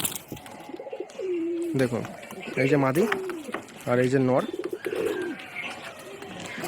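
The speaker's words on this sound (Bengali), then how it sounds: "খুব ছটফটে দুটো পায়রা।" A restless male and female pigeon coo in low, wavering calls, one clearer phrase near the start, then faint murmurs under someone talking loudly up close.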